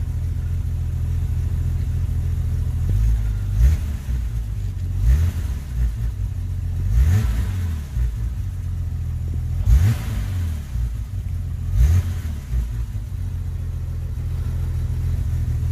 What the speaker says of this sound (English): And give some more revs.